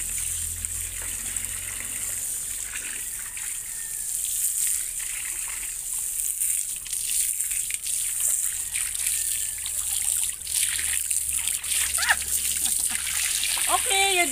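Water trickling and splashing in a small basin, a steady close wash of splashes and dribbles throughout, with people talking over it.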